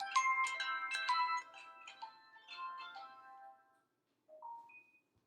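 A mobile phone ringtone chimes a bright electronic melody for a few seconds during a lecture, then cuts off abruptly before a couple of faint final notes, with no talk over it.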